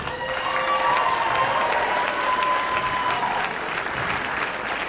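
Steady applause from an audience fills the clip, loud and continuous, with faint whistles or cheers riding over the clapping.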